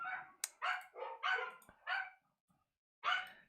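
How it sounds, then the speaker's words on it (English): A couple of dogs bark outdoors, sounding as a run of sharp yips and barks with short gaps, fairly close and clear, followed by a pause and one more bark. "I think you can hear my dogs barking outside"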